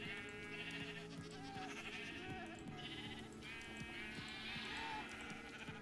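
Sheep bleat several times in Minecraft, wavering cries rising over a steady musical background.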